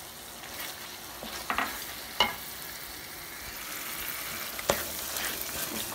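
Cream stirred into boneless chicken handi frying in a pan, a soft steady sizzle with occasional scraping stir strokes and clinks, close and fairly quiet, with no talking.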